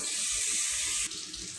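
Hot water streams steadily into a glass jar of sliced cucumbers with salt and vinegar for pickles, a continuous close splashing pour that drops off slightly near the end.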